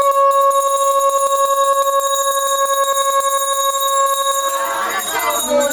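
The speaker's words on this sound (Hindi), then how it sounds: "हाँ चलिए घंटी बजाओ।" A small ritual bell rings continuously with a rapid, steady clang during a Satyanarayan puja, fairly loud, before voices and chanting rise over it near the end.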